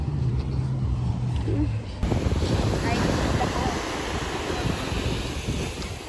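Sea waves wash steadily onto the beach at Cabangan, Zambales, a continuous roar of surf mixed with gusty wind buffeting the microphone, while a person talks over it.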